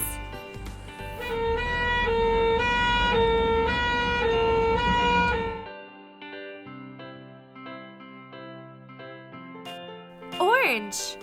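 A toy ambulance siren wails in a steady repeating tone, followed by a melodic electronic tune, with a voice speaking briefly over it.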